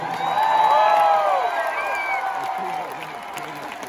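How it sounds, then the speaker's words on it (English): Concert crowd at a show in Biloxi cheering and applauding, a broad roar of clapping and whoops with shouted voices, loudest early then slowly fading, heard from within the audience. "Let's please recognize those people and give them a big round of applause."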